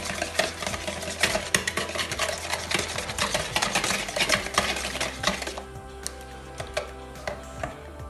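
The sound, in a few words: stirring eggs and sugar in a bowl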